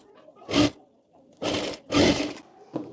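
A sewing machine stitches kurti fabric in short bursts, three quick close whirring runs and a brief final one, separated by quiet pauses.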